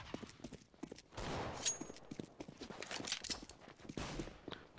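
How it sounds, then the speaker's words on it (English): AK rifle gunfire in a video game, with rapid bursts of shots and a denser burst of fire in the middle, mixed with scattered game sound effects, moderately quiet and without talking. "Alright, I'm gonna practice my AK."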